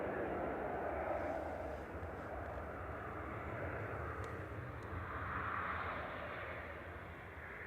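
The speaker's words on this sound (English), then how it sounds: "so Emirates has been cleared to take off." An Emirates jet airliner takes off at Manchester Airport, a steady broad engine roar held at even loudness throughout, distant and continuous, with no talk over it.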